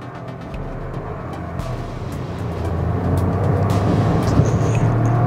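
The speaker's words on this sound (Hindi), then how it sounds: "आप manual mode में shift करें and अब हम इसको down shift कर रहे हैं।" A Mahindra XUV300 turbo petrol AutoSHIFT car downshifts in manual mode, its engine note rising and swelling toward the end under steady road and cabin noise.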